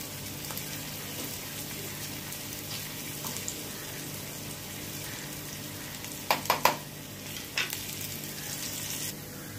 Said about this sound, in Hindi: लहसुन जीरा मिर्चा सब लाल हो गया है